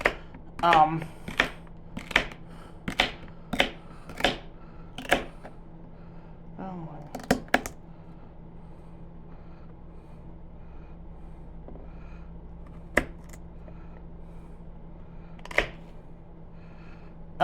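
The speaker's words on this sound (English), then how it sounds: "rough chopping these, but I'm also trying to get them" A knife rough-chops celery on a cutting board, about a dozen crisp thuds in quick succession, then a few scattered cuts amid a quiet background hum.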